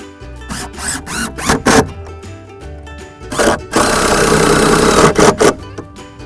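Power driver running screws into the wooden wall of an OverEZ chicken coop during assembly, with several short bursts of whirring followed by one longer sustained drive, loud and close with no talk.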